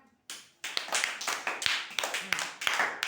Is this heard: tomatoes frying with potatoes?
no